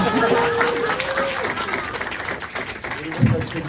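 Audience applause at a Twin Peaks fan festival music panel, steady clapping from a crowd heard under people talking and laughing throughout.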